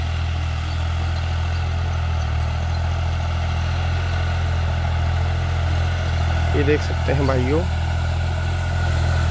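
A New Holland 5620 4x4 70 hp tractor runs with a steady, deep diesel drone that holds evenly throughout, with someone speaking briefly over it near the end.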